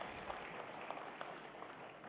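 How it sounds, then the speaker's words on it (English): An audience at a summit opening ceremony applauds with a dense, even patter that sounds quiet and somewhat distant, continuing steadily throughout. "A warm, warm round of applause for your remarks."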